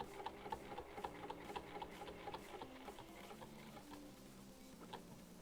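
A sewing machine stitching a travel bag, a faint, quiet mechanical whir with small regular ticks from the needle running steadily throughout, no talking.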